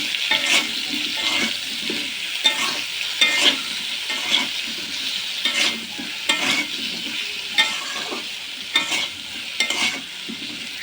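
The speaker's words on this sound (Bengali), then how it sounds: "এবার এই তেলটাতেই আমি বেগুনটা ভেজে নেব" Eggplant pieces rubbed with turmeric, chilli powder and salt fry in the oil left from potatoes, a constant close sizzle broken by repeated scrapes and clacks of a spatula turning them, with no voices.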